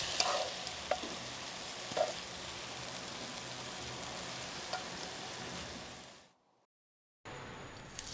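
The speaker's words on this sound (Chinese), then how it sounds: "炒蒜頭" Garlic frying in a pan for a Hakka dish, a steady crackling sizzle with a few sharp pops and stirring clinks, cutting to silence near the end before the sizzle briefly resumes.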